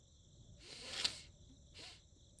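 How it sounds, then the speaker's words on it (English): Crickets chirp in the video game The Darkside Detective: two faint, brief bursts of high, buzzy trilling, the first longer, standing alone against a quiet background. "There's a chirping sound from over here. Crickets, maybe?"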